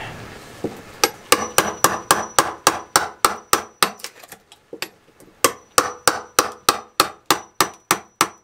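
Sharp hammer blows peel up the wet core of a sailboat deck during a refit, landing in a fast, steady run of close, loud strikes with one short pause partway through.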